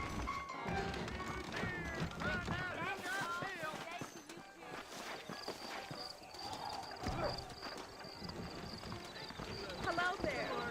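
Horses clip-clop with rhythmic hooves in the Red Dead Redemption game on Xbox One, running in the background under near-continuous talk and game sound.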